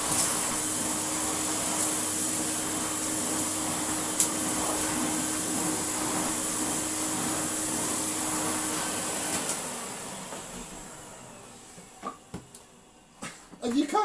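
A restored Hoover Sensotronic System 1 S3126 vacuum cleaner runs with a steady, loud whine and drone on carpet, then winds down near the end, leaving a few scattered knocks and clicks.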